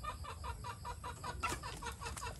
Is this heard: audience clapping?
no